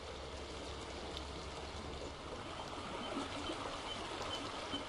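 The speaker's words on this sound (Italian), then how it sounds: "Raggiunge il torrente Rasine, che fluisce limpido e gelido tra quieti gorgogli d'acqua e sassi." The Rasine, a clear, icy mountain stream in snowy Abruzzo, flows over stones in a steady, gentle rushing gurgle, continuous and fairly close with no voices.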